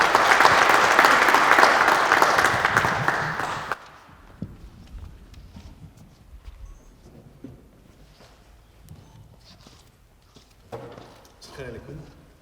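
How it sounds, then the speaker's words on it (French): Audience applause at a conference welcoming speaker Miloud Chenoufi: dense, steady clapping for nearly four seconds, then it stops abruptly, leaving a quiet room with faint shuffles and small knocks. "je vous demande d'accueillir en l'applaudissant Miloud Chenouchi"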